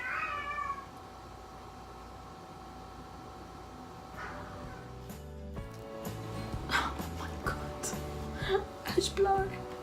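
A house cat meows a few times, short and fairly faint calls in the background, mixed with other indoor noises and someone talking.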